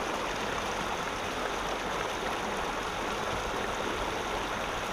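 Flowing creek stream near a homeless camp and cave, a constant close rushing and gurgling of water that holds steady without pause.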